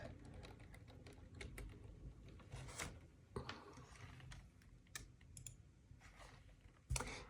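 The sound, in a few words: typing on a Perkins braille typewriter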